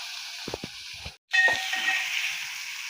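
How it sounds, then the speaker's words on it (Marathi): Onion and chopped tomato frying in a pan over a low gas flame give a steady, close sizzling hiss, with a few light clatters early on and a brief silent break midway. "तोही मी छान परतून घेणार आहे बारीक गॅसवर।"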